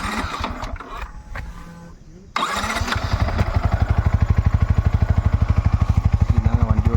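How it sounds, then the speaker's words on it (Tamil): Yamaha MT15 version 2.0 motorcycle engine cranking and catching, then settling into a steady, close, pulsing idle; a voice talks over the opening seconds before the start. "இதுதாங்க வண்டியோட நார்மலான சவுண்டு."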